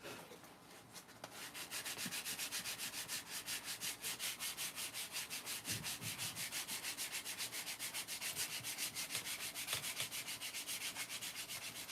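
Hand sanding of a piece for bag crafting, a steady rhythmic scratchy rubbing that runs continuously and close by with no talking.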